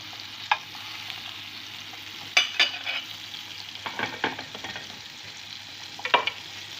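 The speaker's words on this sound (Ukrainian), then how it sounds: "І додаю сарделечки, на цьому маслі я їх підсмажу." Steady sizzling of turkey sausages frying in butter in a pan, with occasional scrapes and clinks of a utensil stirring; continuous and close.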